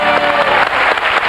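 Studio audience of a French television game show applauding a finalist, a short loud burst of dense clapping with faint crowd murmur.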